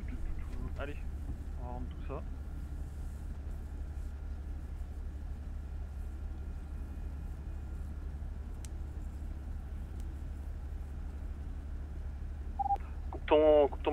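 A boat engine in a video game runs as a steady low drone throughout, with voices talking over it and a few faint electronic beeps.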